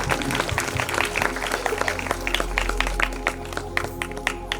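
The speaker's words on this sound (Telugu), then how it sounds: "ముందుగా మన ఫాదర్ గారికి అందరూ గట్టిగా చప్పట్లు కొడుతూ అభినందనలు తెలియజేశారు" A church crowd at a grotto opening applauds the priest with dense, sustained clapping and sharp individual claps, heard over a low steady hum and faint background tones.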